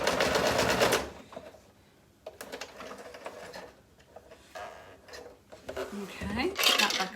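A sewing machine runs a short back stitch on a quilted piece with wadding, a fast close rattling hum in bursts that stop and start, with someone talking between them.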